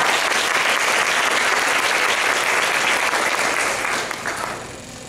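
An audience at a school PTO meeting gives a sustained round of applause, dense and even for about four seconds before starting to thin out, with no speech.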